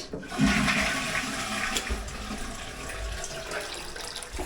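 A toilet in a newly renovated bathroom flushes with a loud, steady rush of water that continues through the whole stretch, close by and with no talking.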